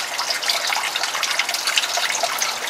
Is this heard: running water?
yes